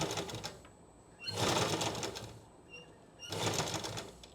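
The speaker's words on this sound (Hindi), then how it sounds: "बस ऐसे ही मैं पकड़े रहूँगी और सिलाई होती जाएगी" A sewing machine stitches the hem of an umbrella palazzo in two loud, whirring bursts of about a second each, separated by quieter pauses.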